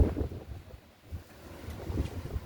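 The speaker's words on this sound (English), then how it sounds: "Serious wind in Kosovo." Strong gusty wind outdoors in Kosovo buffets the microphone with low rumbling roars that dip briefly and then build again, heard alone without speech.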